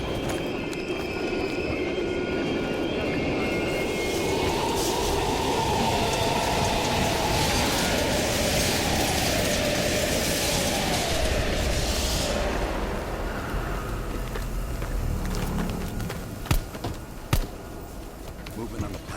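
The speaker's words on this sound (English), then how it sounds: "We can use a train to slip past." A train rumbles through an abandoned East German station in Call of Duty Black Ops Cold War, a long loud roar with wheel squeal and clatter, swelling and fading over nearly twenty seconds.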